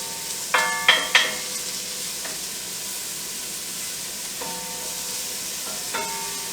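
Onions sauté in a pan on a hot gas range: three sharp scraping stirs open over a constant soft sizzle, followed by a few fainter stirs later on.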